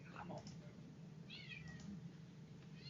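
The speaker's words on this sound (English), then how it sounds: "Now I can hear the cat." A cat meows indoors, a few short rising cries close to the microphone over a steady low hum, with some faint talk in the background.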